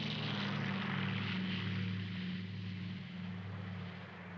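Propeller airliners arriving in Melbourne for the 1956 Olympic Games drone steadily in a loud, even engine hum that eases slightly toward the end, with no voices present.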